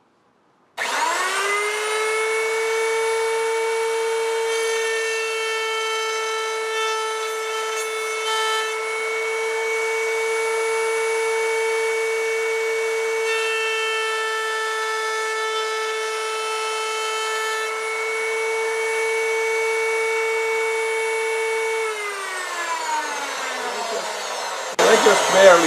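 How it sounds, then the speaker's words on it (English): A router bit makes a skim cut along the edge of a dovetail wood bowl, giving a loud, steady high-pitched whine that holds for about twenty seconds and then winds down, with a few clunks at the end. "So I'm just going to make a skim cut that just barely starts cutting the wood."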